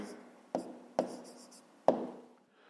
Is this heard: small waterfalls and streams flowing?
no